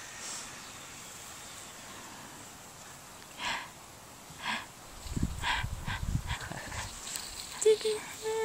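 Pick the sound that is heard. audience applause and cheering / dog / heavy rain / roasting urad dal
dog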